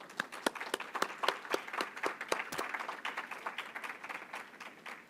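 Applause from the audience at a state representative candidates forum held at a university, with sharp individual claps standing out near the start before settling into a lighter, thinning patter.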